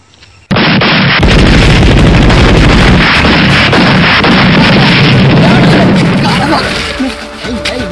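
Bombs explode in a dense, continuous barrage of loud booms and crackling blasts after a sudden onset, roaring on for several seconds before easing slightly, with some voices partly audible beneath.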